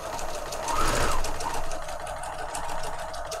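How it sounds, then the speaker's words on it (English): A sewing machine runs a straight stitch around the edge of a spring-themed handmade journal, giving a close, rapid mechanical whirring that swells and slows in short bursts. "so I'm just going to sew with a straight stitch around the edge of here"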